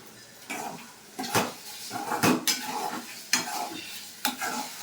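An egg frying in a pan in a home kitchen, with a utensil scraping and stirring against the pan in intermittent bursts over a soft background sizzle, close and fairly clear, no talking.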